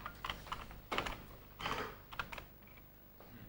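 Typing on a computer keyboard by a statistician demonstrating an editorial approach in statistical computing: irregular bursts of quiet key clicks with short pauses, close and faint, no talking.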